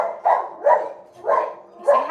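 Puppies bark close by in four sharp, evenly spaced yaps over about two seconds, with no talking in between.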